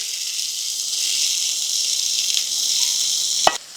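Pressure-cooked chana dal dropped into hot ghee in a kadhai sizzles with a steady bright hiss, close and fairly loud, ending in a short sharp crackle near the end; no talk.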